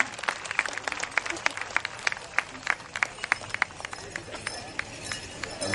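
A small crowd claps in sharp, uneven bursts at the 2011 Hat, Boots, and Spurs contest in Parker, Arizona. The applause is moderately faint and continues for several seconds without speech.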